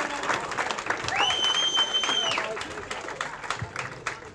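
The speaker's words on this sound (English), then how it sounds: "round of applause for the well held fought bout." A crowd at a youth 60kg wrestling final applauds after the bout, with a sharp whistle blast partway through and voices mixed into the clapping.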